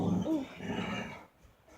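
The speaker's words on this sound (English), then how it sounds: "That's my dog." A pet dog lets out a short, close bark that trails into a low growl, loud for about a second before fading into quiet room tone.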